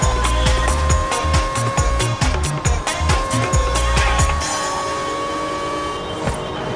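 Mazda MX-5 engine in the Forza Horizon 4 racing game, a high, buzzing whine with rapid rev changes and gear shifts for several seconds, loud and close, then settling into a steadier drone.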